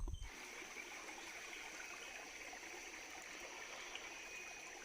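A forest stream still carrying plenty of water rushes and trickles steadily, a constant close wash of flowing water with no voices over it.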